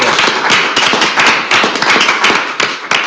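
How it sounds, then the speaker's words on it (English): Close, loud applause rings out in a city council chamber, dense irregular hand claps from a small group continuing throughout with no talking over it. "Give them one last round of applause."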